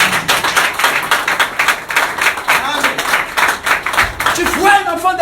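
Dense, steady clapping and cheering from a church congregation during a French-language sermon, loud and continuous, with voices calling out over the applause.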